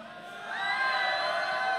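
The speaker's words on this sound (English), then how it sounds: "what a quiet crowd we have tonight" A concert crowd at a punk show in the Classic Grand, Glasgow, cheers and whoops, swelling from a distant murmur into sustained loud shouting and screams.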